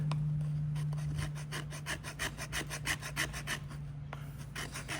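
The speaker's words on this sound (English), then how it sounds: "let me do a piece of wood. Let's see if it'll scrape the wood." A folding knife with a 14c28n steel blade and crossbar lock scrapes along a piece of wood in a steady series of close, raspy strokes, each a short rough burst, with a faint low hum underneath.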